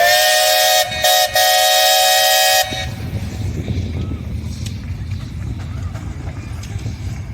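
Steam tractor whistle at a steam parade, a loud sustained tonal blast briefly broken twice, then cut off, followed by rumbling engine and crowd noise.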